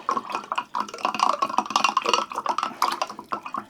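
Ascorbic acid being stirred into warm water in a container, a busy run of clinking, scraping and sloshing taps from the stirring utensil, close and fairly loud, with no talk.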